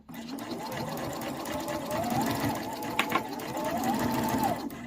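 A domestic sewing machine stitches fabric for a cross-body sling bag, its motor whirring in a steady continuous run with a pair of brief clicks partway through.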